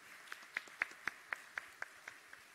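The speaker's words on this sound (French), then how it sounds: "Maintenant, on peut applaudir alors." Sparse applause after a medical conference presentation: a slow, even run of about ten distinct claps, faint and fairly close, with little else around them.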